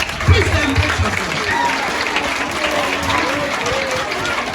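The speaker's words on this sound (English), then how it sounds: "Clap for yourself. Please celebrate yourself." An audience at a talk on drug abuse claps for themselves, a loose scattered applause heard at moderate level with voices and crowd murmur mixed in.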